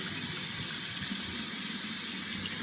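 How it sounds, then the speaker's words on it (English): Steady faucet water pours and splashes into a sink as a jar of alfalfa sprouts is rinsed and drained, a constant nearby rushing with no voices. "letting the water run from the jar out"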